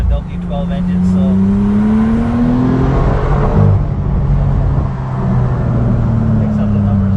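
A 2021 Bentley Continental GTC's W12 engine and exhaust accelerate hard, its loud drone rising in pitch through a gear, then dipping and climbing again, heard close from inside the car.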